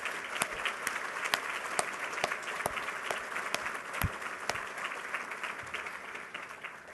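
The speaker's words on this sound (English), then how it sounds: "How about a round of applause for our students?" Audience applause for student assistants at a university awards ceremony, sustained crowd clapping with sharp individual claps standing out, moderately close and steady.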